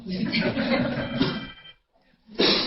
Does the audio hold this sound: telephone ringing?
yes